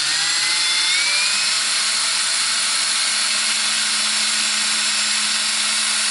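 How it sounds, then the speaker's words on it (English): A lapping tool spinning inside the muzzle of a Mosin Nagant M91/30 rifle to finish the crown, a steady high-pitched whirring grind with a constant hum, running continuously and loud throughout. "right into the muzzle, and it's gonna lap and finish that crown"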